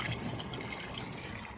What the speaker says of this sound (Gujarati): પાણી ભરવાનું કરી નાખ્યું ચાલુ